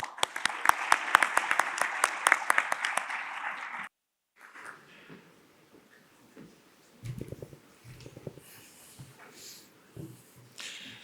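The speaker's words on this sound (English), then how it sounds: "Please give Andrew a round of applause." Brief, moderately loud audience clapping greets a presenter at a conference session, dense for about four seconds then cutting off abruptly, followed by faint room shuffling and a few soft bumps.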